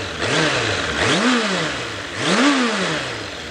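A Suzuki GSF750 Bandit 750cc motorcycle engine revs repeatedly with a deep, bassy rumbling exhaust, each throttle blip rising and falling in pitch, close and loud.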